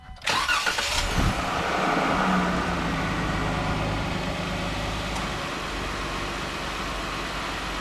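A 2016 Jeep Wrangler JKU engine cranks and catches with a sharp start, then settles into a steady idle close by, with no voices.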